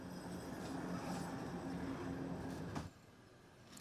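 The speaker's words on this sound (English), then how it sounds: "A train said to be carrying Russian military vehicles arrives in" A train carrying Russian military vehicles arrives, with a steady rolling rumble, wheel and rail noise and faint tonal squeals, quiet and continuous before dropping away sharply near the end.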